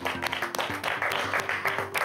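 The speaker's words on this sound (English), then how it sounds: "Let's give her a round of applause." A small group claps in a brisk round of applause at a children's quiz show results announcement, steady and moderately close, with music playing underneath.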